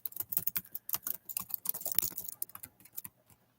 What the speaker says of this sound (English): Let me see if I can type something in there.